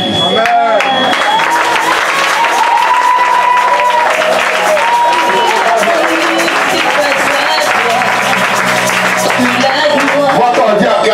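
Church congregation applauding the Lord during a French-language sermon: loud, dense, sustained clapping and crowd noise with voices mixed in, steady throughout.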